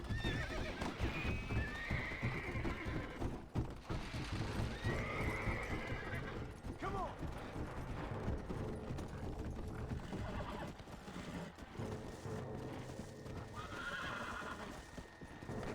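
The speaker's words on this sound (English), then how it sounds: "this is actually the second longest horse ride in the game." A horse gallops at a steady rhythm in the video game Red Dead Redemption: Undead Nightmare, its hoofbeats continuous and close, with occasional whinnies, with no talking.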